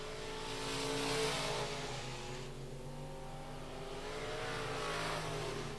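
USRA Limited Mod race cars circle a dirt speedway, their engines a steady loud roar that swells and fades as the pack passes, with no talk over it.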